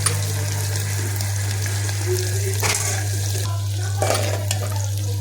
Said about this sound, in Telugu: కాకరకాయ ముక్కలు కొంచెం నూనెలో ఫ్రై కావాలి